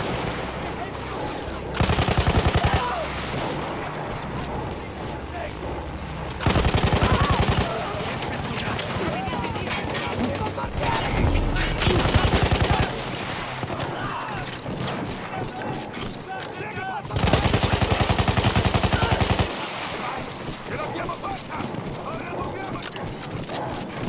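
Machine gun fire in the Battlefield 1 World War I battlefield, with the Royal Italian Army's Arditi fighting Austro-Hungarian troops; sustained loud bursts come in several long blocks over constant battle noise, with someone speaking throughout.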